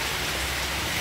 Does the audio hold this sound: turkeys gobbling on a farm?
no